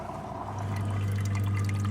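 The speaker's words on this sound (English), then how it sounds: "then I put my card back again, and then you'll hear it pumping out in a little minute" Milk from a farm vending machine pumping and pouring into a bottle on the Isle of Arran, a steady close liquid rush with a low motor hum that swells and settles into a continuous flow.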